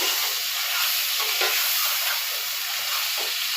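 Ginger and garlic fry in a pan with browned onions, a loud steady sizzle and hiss close by, with small stirring bursts and no talk.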